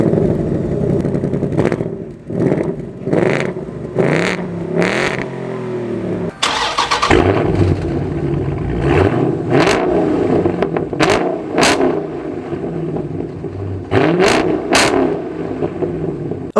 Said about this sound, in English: now let's take a listen to the exhaust and see which one sounds better